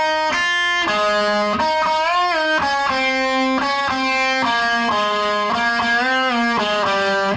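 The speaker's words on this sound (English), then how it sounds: "the last thing I want to show you in this lesson is the solo" A distorted electric guitar plays a solo, a sustained melodic line of bent and held notes at steady volume, close and alone with no talking; one word is spoken faintly.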